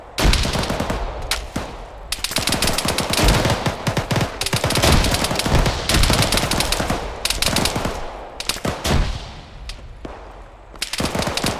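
Sustained automatic gunfire in the military shooter ArmA 3, loud and close, with long rattling bursts and short pauses between volleys, heard alone without talk.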